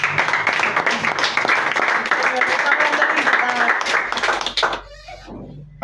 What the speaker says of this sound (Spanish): Aplauda a Dios si puede.